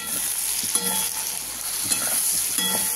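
Spices with chili powder and salt frying in a pan, a steady close sizzle with a few light scraping stirs of a spoon, no talking.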